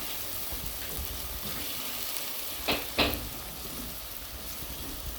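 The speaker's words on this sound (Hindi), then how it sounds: "अब देखिए लहसुन अदरक भून के बस थोड़ा सा रह गया" Garlic and ginger frying in oil in a pan for a minced meat and capsicum dish, a steady soft sizzle with two brief louder crackles near the middle.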